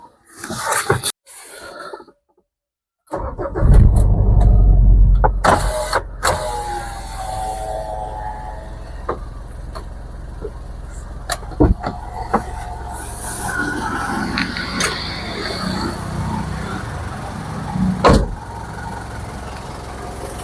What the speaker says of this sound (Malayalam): അപ്പോൾ ഇനി നമുക്ക് സ്റ്റാർട്ട് ചെയ്തതിൻ്റെ സൗണ്ട് ഒന്ന് കേൾക്കാം